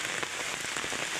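Heavy monsoon rain in Odisha pours down in a dense, steady hiss of drops hitting surfaces, loud and continuous with no voices.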